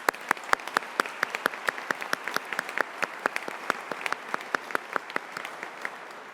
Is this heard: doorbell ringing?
no